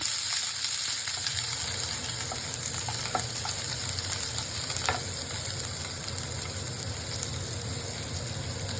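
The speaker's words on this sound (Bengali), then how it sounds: "এখানে পেঁয়াজ কুচি করে কেটে রেখেছিলাম, এই পেঁয়াজগুলো এখানে দেবো। ভেজে নেব।" Chopped onions fry in a little oil in a pan with a steady, dense sizzle throughout, with a few faint scrapes of stirring and no talking.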